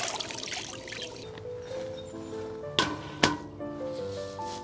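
Washed mint leaves are lifted out of a basin of water, giving a soft trickle and drip, then two sharp splashy clacks, close and quiet.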